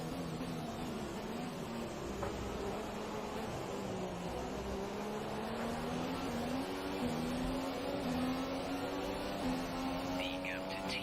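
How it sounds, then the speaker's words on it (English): Race cars in F1 2017 career mode at the Belgian Grand Prix sweep past with steady droning engine whine and rising pitch, a continuous moderately loud roar that holds for the whole stretch. "As we will be passed by another set of cars now."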